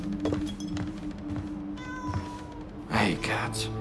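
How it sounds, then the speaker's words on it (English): A cat meows several times, rising and wavering cries scattered over a few seconds, fairly close amid quiet room noise, with a voice murmuring in between. "I hate cats."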